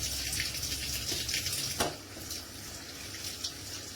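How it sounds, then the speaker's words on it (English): Tap water runs steadily while vegetables and scallions are washed at a sink, a continuous close rushing flow with a brief louder splash partway through and no talking. "you must wash your vegetables. Yep. Wash them thoroughly"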